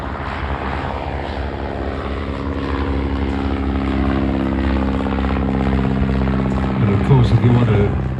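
Bristol Fighter biplane at a classic fighters airshow, its piston engine droning steadily as it flies past in formation, growing slightly louder toward the end.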